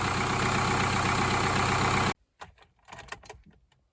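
A Subaru / Opel 1.7 diesel engine idling steadily, an even, loud mechanical chatter lasting about two seconds before cutting off abruptly, followed by faint scattered knocks and handling noises.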